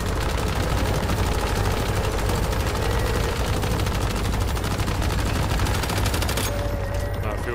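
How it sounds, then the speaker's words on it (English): Gunfire in the shooter game Once Human, a dense, loud and nearly continuous barrage of rapid automatic shots from near and far that lasts until the final second, when it cuts off. "Just start shooting the lights again."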